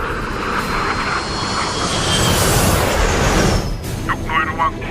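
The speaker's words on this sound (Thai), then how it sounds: "ทุกหน่วยระวังมีเครื่องบินโผล่มา" A fixed-wing aircraft roars loudly overhead, its engine drone building to a peak and then receding, while a voice speaks over the noise near the end.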